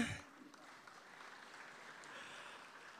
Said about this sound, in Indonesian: Sekali lagi tepuk tangan hadirin sekalian.